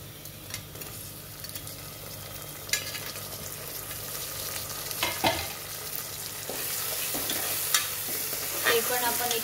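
Tomatoes tipped into a pan of frying onions while cooking Maharashtrian matki usal, a steady sizzle with spoon scrapes and stirring clatters throughout, close and moderately loud.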